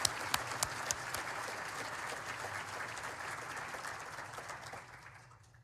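Audience applause at a State of the City address in Midland, a steady crowd clapping with a few sharp claps early on, gradually tapering and fading out near the end.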